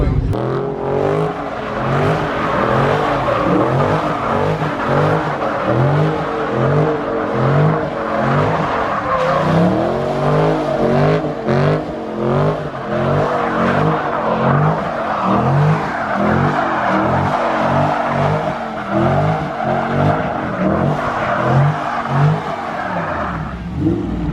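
A Dodge Hellcat or Scat Pack engine revs hard while tires squeal and skid continuously as the car slides, loud and close, with voices faintly mixed underneath.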